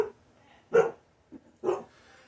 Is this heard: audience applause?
no